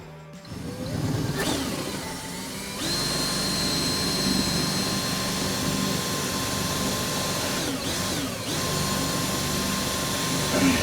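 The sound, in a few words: power drill boring a hole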